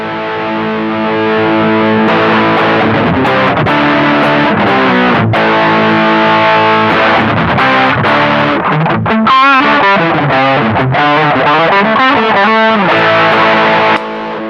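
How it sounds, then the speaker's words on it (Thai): A heavily distorted electric guitar plays chords and riffs through a distortion pedal boosted by a One Control Sonic Blue Twanger, thick and saturated with a gritty edge, sustained and loud throughout. "ผมจะลองต่อกับเสียงแตกเอามาเป็นบูทดูนะครับผม"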